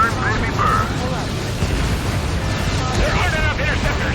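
Loud continuous rumbling explosions and blasts as a pipeline is destroyed in the combat flight game Ace Combat 7, dense and sustained throughout, with radio-style voices talking over the din.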